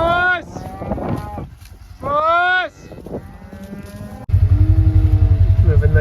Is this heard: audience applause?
no